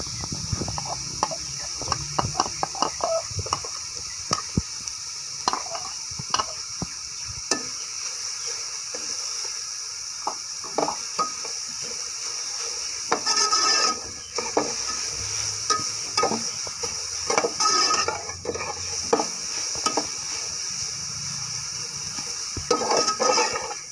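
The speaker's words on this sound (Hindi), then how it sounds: "इसके बाद बारीक कटी शिमला मिर्च डाल दें।" Finely chopped capsicum frying in a pan while being stirred for a Chinese chicken egg roll filling, a soft steady sizzle with frequent scraping and clinking of a spatula against the pan.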